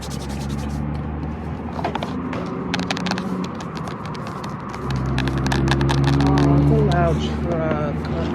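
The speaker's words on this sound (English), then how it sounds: "Truck." A truck drives by outside during a quiet whispered ramble, a steady low rumble that swells toward the end as it passes, heard under soft talking and light tapping sounds.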